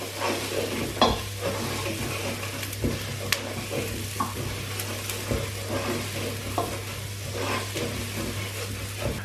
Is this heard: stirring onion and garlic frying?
yes